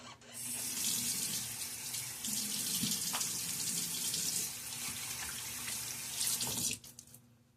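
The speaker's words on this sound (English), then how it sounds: "Now a splash of water." Steady rush of tap water splashing into a sink, continuous and close for several seconds, then cutting off near the end.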